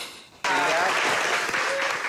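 Studio audience on a cooking show bursts into loud, sustained applause that starts abruptly and keeps going as a dense wash of clapping, with a voice briefly cutting through near the start.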